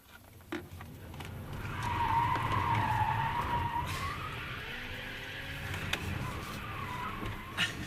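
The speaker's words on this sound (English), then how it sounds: "So can I burn some rubber?" A Tesla Model S does a burnout with traction control off, a loud sustained tire squeal that swells and wavers for several seconds under a faint electric whine, with a brief voice nearby.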